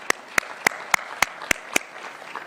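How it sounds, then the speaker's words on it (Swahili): An audience at a Kenya–EU trade deal event in Nairobi claps in a clear, evenly spaced run of about seven sharp handclaps, close and distinct, fading after the last one. "Tuwapigie makofi jameni"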